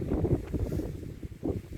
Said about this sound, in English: It's windy and everything here.